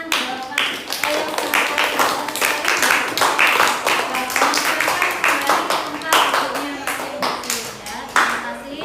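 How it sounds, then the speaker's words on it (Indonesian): Enthusiastic group clapping in a classroom presentation session, dense and sustained, with a voice calling out over the applause. "Oke, tepuk tangan."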